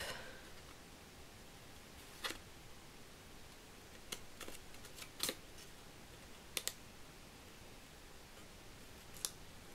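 Scissors snipping small detailed edges on a paper Santa Claus jacket card, faint sparse cuts at irregular intervals over a quiet room hiss.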